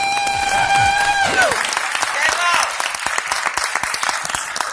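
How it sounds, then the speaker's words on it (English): A Kwanzaa gathering's audience breaks into a warm round of applause as a speaker is brought up. Loud, dense clapping fills the room, with a fading musical tone and a voice at the start, then it thins into scattered claps. "can we please bring him up with a warm round of applause"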